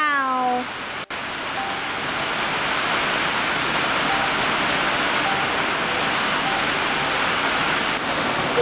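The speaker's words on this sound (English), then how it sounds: "It's raining pretty hard, Mom." Heavy rain pours onto a roof during a thunderstorm, a dense, steady roaring wash of drops that fills the scene without letup, with a short tonal sound at the very start.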